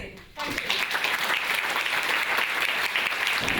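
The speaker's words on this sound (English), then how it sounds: "give yourselves all a round of applause" A crowd bursts into sustained, enthusiastic applause after a brief quiet moment, the clapping dense and steady throughout.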